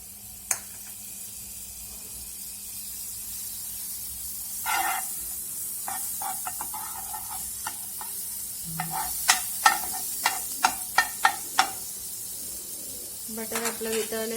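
Butter melting in a hot pan while making cheese balls, a soft hiss with a run of sharp clicks and spattering pops that grows busier toward the end.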